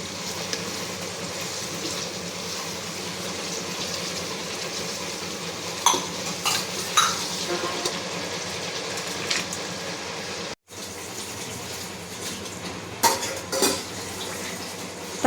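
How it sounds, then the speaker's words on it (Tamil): Tomatoes sautéing in a pan for Dindigul biryani, a constant loud sizzle with occasional spoon clatter against the pan, heard close with no talk. "நெக்ஸ்ட்டு தக்காளி சேர்த்து அதை வந்து வதக்கி எடுத்துக்கலாம்."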